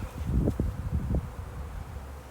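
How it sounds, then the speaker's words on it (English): Italian honeybees swarm close around a backyard hive during a package installation, their low, fluctuating buzz rising and falling near the microphone with soft rustling and no voices. "I hate doing this with so many bees in the air"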